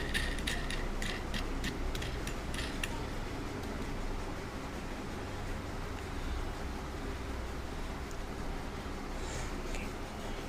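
A handmade double axis wooden vice is tightened down on a piece of wood, with a run of close creaking, clicking mechanical turns at the start over a steady low rumbling noise, then fainter creaks.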